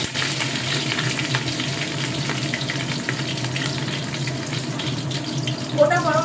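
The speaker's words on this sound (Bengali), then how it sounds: "এবার গ্যাসের ফ্লেমটা আমি একদম কমিয়ে দিচ্ছি, এর মধ্যে দিয়ে দিচ্ছি তেজপাতা ফোড়ন," Bay leaves and whole spices such as cardamom, cinnamon and cloves frying in oil in a pan over a low gas flame for chicken pulao, a continuous close sizzle with faint stirring clatter.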